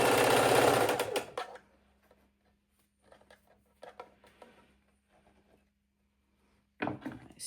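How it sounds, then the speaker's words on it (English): A sewing machine stitches fabric strips together for a 4-patch quilt block, with a loud, fast run at the start, near-quiet pauses with small clicks, and another short burst at the end. "we're just going to sew all of these pieces together for our other side of our 4-patch block"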